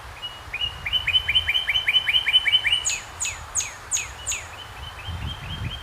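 Two birds sing in quick succession, one with rapid rising whistles, the other answering with sharper descending notes, over light background patter.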